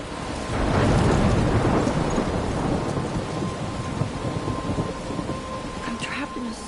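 A thunderstorm in a video game near a lighthouse, a loud rolling thunder rumble over steady heavy rain that fades slightly while the downpour continues.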